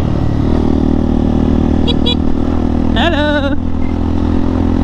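A motorcycle engine-brakes downhill on a trail road near Porac, Pampanga, making a loud, steady engine drone with wind rumble that runs throughout. A voice briefly calls out over it.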